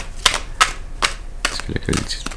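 An oracle card is drawn from a deck, giving a few sharp papery flicks and slides that come in spaced bursts, with a brief murmur of voice near the end.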